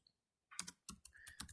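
Quiet keystrokes on a computer keyboard while Java code is being entered, heard as a short run of close clicks and taps after a half-second of silence.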